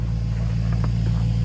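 A truck engine idles steadily while warming up in cold weather, giving a continuous low rumble that stays loud and close with no breaks.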